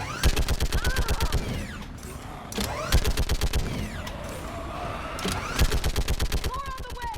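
Gunfire from the video game Mass Effect 3: rapid, loud automatic bursts cracking in quick rhythmic runs, broken by brief pauses, with voices talking over the shooting.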